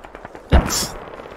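A single sharp, heavy gunshot from a video game, a loud low thump followed by a brief bright hiss, standing alone against quiet background noise.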